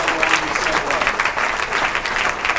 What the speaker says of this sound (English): Give her a great round of applause.